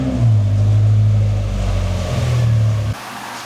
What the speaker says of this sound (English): Car's running right now. I'm gonna back it out, pull it in so it's facing this way